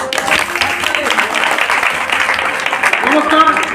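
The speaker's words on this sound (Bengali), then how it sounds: "ওদের জন্য আপনাদের কাছ থেকে একটু ছোট্ট করে উপহার, ভালোবাসা দিয়ে একটু হাততালি করে" An audience applauds a drama troupe at a stage play, with steady crowd clapping and voices mixed in throughout.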